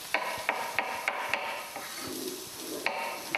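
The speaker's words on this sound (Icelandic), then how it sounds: "Og steikja sveppi og tómata" Mushrooms fry in a pan while a utensil stirs them in regular scraping strokes, close and fairly quiet over a faint sizzle, with no talking.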